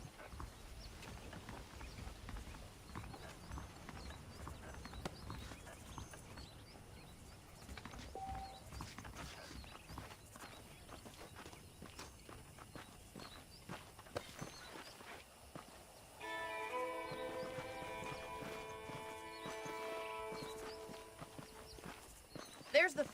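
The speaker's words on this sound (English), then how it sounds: "let's see if you can still ride a horse" Horse hooves clip-clop steadily in the Red Dead Redemption video game, a walking rhythm under frequent in-game dialogue, with a burst of background music near the end.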